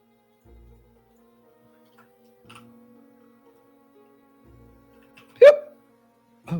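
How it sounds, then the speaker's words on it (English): A single sharp hiccup breaks through an otherwise quiet room, brief and close, preceded by faint soft noises and followed by another short vocal sound. "Get the classic hiccups."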